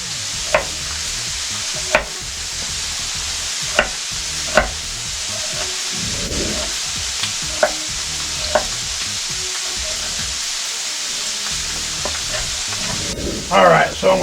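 Bacon strips frying in a pan, a continuous steady sizzle with sharp periodic clicks and taps of a utensil, a brief rattle near the end, no talking.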